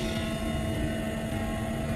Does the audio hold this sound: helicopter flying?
yes